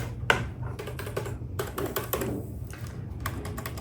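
Typing on a new matte black computer keyboard, a quick irregular run of soft key clicks and taps, close and fairly quiet with a faint low hum underneath; no one speaks.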